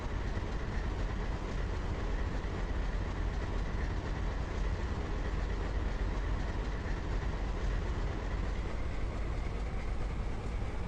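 A New York Central train departs in the Train Simulator video game, giving a continuous loud rumble of engine and wheels on rail that holds steady throughout.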